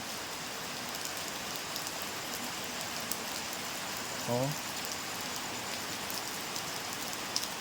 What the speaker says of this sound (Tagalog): Gara ang ulan.